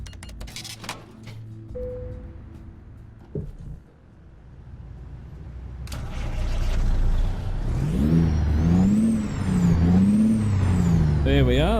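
Kenworth T660 truck with a Caterpillar 3406 engine in American Truck Simulator, starting up and settling into a loud, rumbling idle, then revving with rising and falling whine, near and alone.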